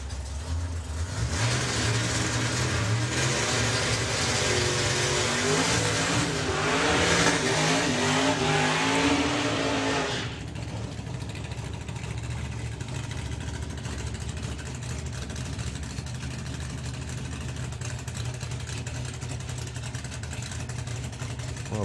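Apocalypse Viper drag car at a drag racing event, engine loud and rough with a rising throttle burst for about ten seconds, then settling to a steady low idle rumble as it crawls forward on tick over.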